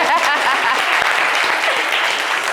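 Audience applause in a French-language talk show, a dense, steady wash of many hands clapping at close range, loud and continuous throughout.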